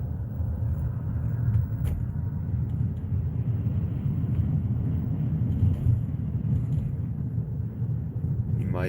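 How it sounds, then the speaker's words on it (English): A 2023 Ford Maverick pickup drives along with a low, steady road rumble and soft wind noise inside the cabin. The sound stays constant and fairly quiet throughout, with faint intermittent rattling. "You might be able to hear some wind noise, but it's just a quiet ride."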